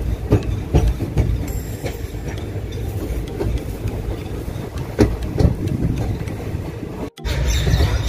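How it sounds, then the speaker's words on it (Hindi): A train pulls out of an Indian station on a Jammu Tawi journey, with steady loud rumble and rhythmic wheel clatter on the rails throughout, briefly cut near the end. "अब ट्रेन यहाँ से भी रवाना होने वाली, होने वाली नहीं है, हो रही है"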